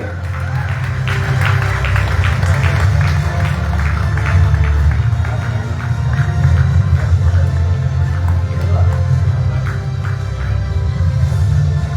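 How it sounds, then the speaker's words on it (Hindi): A crowd gives dense, sustained applause for a singer awarded a consolation prize at the Faridabad Talent Hunt 2025 grand final held at a hospital venue; steady, loud clapping fills twelve seconds without letting up. "जोरदार तालियां हो जाए थमन के लिए"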